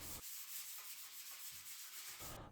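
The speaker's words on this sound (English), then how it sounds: "I sanded it with 220 grit sanding sponge" A 220 grit sanding sponge rubs over dried wall putty on a kitchen wall in rhythmic back-and-forth strokes, a soft close scratchy hiss with brief pauses between passes.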